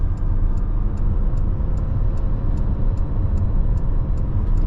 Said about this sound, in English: here we go, merging on a highway.